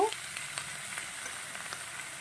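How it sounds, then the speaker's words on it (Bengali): Steady crackling sizzle of vegetables frying in oil, close and moderately loud, with occasional pops and a brief clink at the start. "এটা আমি একটু ভাজা ভাজা করে নেব"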